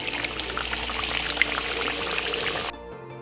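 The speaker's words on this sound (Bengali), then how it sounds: "তেল গরম হয়ে গেছে। আমি এই কচুরিটা ছেড়ে দিলাম।" A pea kachori slides into hot oil, and a steady bubbling hiss of frying runs close and fairly loud before it drops away abruptly near the end.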